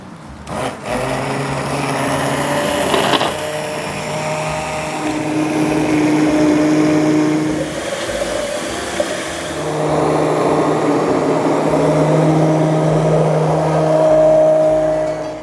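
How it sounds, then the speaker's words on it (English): An immersion blender purees cooked apples and pears for applesauce, whirring steadily with a buzzing hum that shifts in pitch as it works, punctuated by occasional knocks and thumps. "now we're gonna take the lid off and blend it up with my immersion blender"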